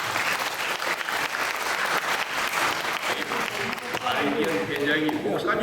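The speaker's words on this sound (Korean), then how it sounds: "목사님들 다시 한번 박수하겠습니다" A church breakfast worship congregation applauds its pastors with loud, dense clapping that rolls on steadily throughout, while a voice speaks over the applause toward the end.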